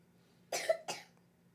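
Two quick, close coughs in a row, a short pause between them, against a quiet background.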